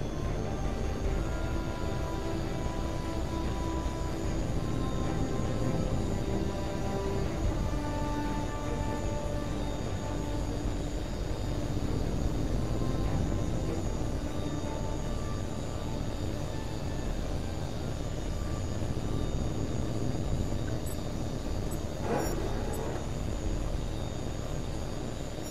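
A jet fighter takes off in the combat flight game Tom Clancy's H.A.W.X 2, a loud continuous engine roar with a whining tone that holds steady throughout, with no talking.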